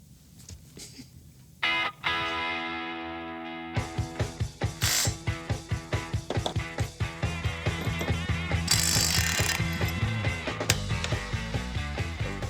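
A hand ratchet clicks in quick, even strokes while new bolts are torqued down on a Hemi-powered Gremlin, with metallic clanks at the start and a long close run of regular ratcheting.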